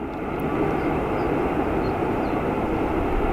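A Ryanair jet coming in to land at Dublin Airport gives a steady, loud, broadband engine roar that holds evenly throughout without voices.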